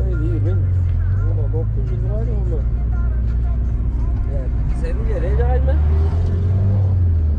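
Traffic rolls along a road at a hitchhiking spot in Russia, a loud, continuous low rumble of cars and engines with a voice talking over it throughout.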